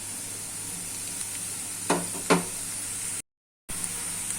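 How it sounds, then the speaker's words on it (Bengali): Onions fry in hot oil for a fish dopiaza, giving off a steady close sizzle. Two quick utensil stirs clatter in the middle, then the sound cuts out briefly before the sizzling returns. "পেঁয়াজটা ভাজা ভাজা হয়ে গেছে।"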